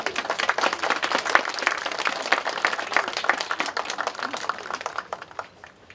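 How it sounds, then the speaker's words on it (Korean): A crowd applauds at the 86th memorial ceremony for the writer Kim Yu-jeong. Thick, continuous clapping holds for about five seconds, then quickly thins out and fades to near silence. "박수 한번 보내주세요"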